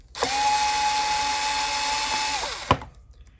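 A power screwdriver whirs steadily for about two seconds while backing screws out of a Kenwood equalizer on a workbench, then winds down, followed by a single sharp clack.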